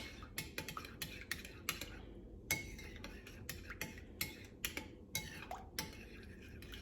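A spoon clinks steadily against the sides of a glass or bowl as milk is stirred with Nesquik chocolate powder, a close, quiet, rhythmic tapping that continues throughout.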